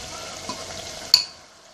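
Fried potatoes being stirred with salt in a pan: soft scraping and a gentle sizzle, capped by one sharp utensil clink near the end before it fades.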